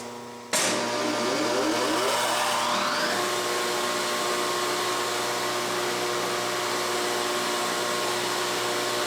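A Yates American B244 band saw, its spindle freshly balanced, starts with a sudden loud surge, then climbs in pitch over a few seconds before settling into a steady, smooth whine that holds to the end.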